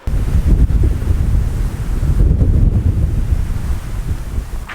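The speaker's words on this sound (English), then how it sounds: "God, that wind's picking up." Strong wind buffets the microphone at Uluru in the Australian outback, a loud continuous low roar with gusty surges that holds steady throughout, no voices over it.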